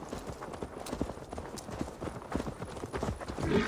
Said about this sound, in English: At least going this low we can admire the horse.